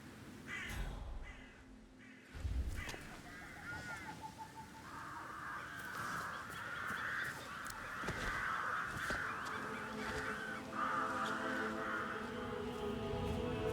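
Birds crowd a tree in the video game Hitman 3, cawing and honking harshly in repeated overlapping calls over a steady game ambience, fairly close and persistent throughout.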